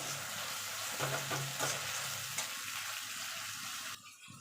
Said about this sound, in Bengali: এবার মিক্সির জারটা ধুয়ে জল দিয়ে দেবো